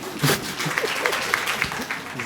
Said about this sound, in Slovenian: tako da en velik aplavz, prosim